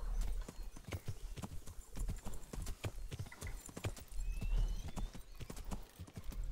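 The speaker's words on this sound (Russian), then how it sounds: "Лошадинка моя." Horse hooves clip-clopping at a steady rhythmic pace while riding in a video game, loud and close, with a brief whinny and faint background sounds.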